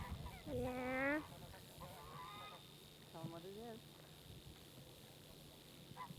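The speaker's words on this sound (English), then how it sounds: "This is the geese." Geese honk loudly at close range in a few bursts of nasal calls, then fainter calls follow over a steady outdoor background near the Delaware River.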